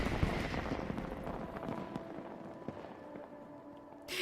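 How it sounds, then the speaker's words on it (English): Fireworks bursting in the background of a Final Fantasy XIV in-game event, a series of faint crackles and pops over a dense, busy game soundscape. "the fireworks in the back are crazy"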